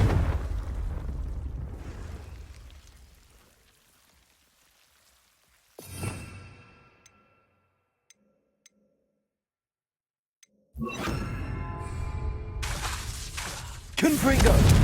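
In Hogwarts Legacy, Confringo fire-spell blasts land as sharp bursts followed by crackling, rumbling roars. A quiet gap separates the blasts, and the heavy fiery noise returns loudly near the end.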